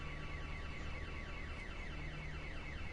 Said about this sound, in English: Steve, there's been an alarm set off.